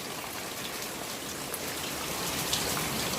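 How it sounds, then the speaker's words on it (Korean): Rain falling steadily at a holiday spot in the Philippines, a dense, even hiss of drops with occasional louder splatters and no talk. "비 온다, 비 온다, 비 온다."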